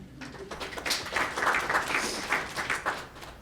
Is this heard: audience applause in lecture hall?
yes